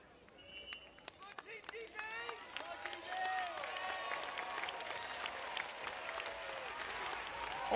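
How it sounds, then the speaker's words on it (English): Spectators at a men's 5-a-side blind football match, Great Britain against Spain at London 2012, clap as players return after a timeout. Scattered claps swell into steady applause over a busy backdrop of squeaky, chirping sounds and moving players. "Always nice for the crowd to clap when the players come back after a timeout"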